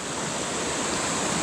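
Fast-flowing river water rushes steadily in a loud, broad roar, close and continuous, with no talk over it.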